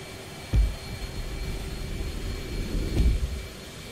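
Jet engines running up in the DCS flight simulator, a steady loud roar and whine with two heavy low thumps about two and a half seconds apart, with no talking.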